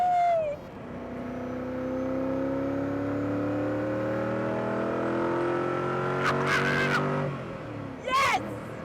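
Koenigsegg CCXR Edition supercar engine droning loudly from inside the car, revs climbing steadily through a long pull before easing off, with brief voices near the end.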